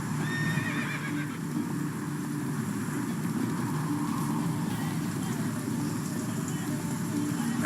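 Roach the horse running in The Witcher 3, hooves pounding steadily under a continuous low rumble of game ambience, with a whinny rising above the dense, unbroken mix.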